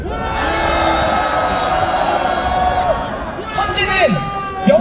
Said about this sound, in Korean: 분노의 함성 질러주십시오.